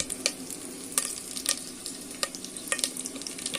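A spoon scrapes and stirs ingredients for pappu charu in a sizzling pan, with repeated clinks and scrapes over a steady frying hiss and no talk.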